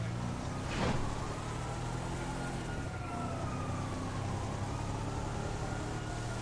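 A police car siren in heavily modded GTA 5 wails in sweeping, rising and falling tones at moderate distance, layered over a steady engine and road rumble, with no talk.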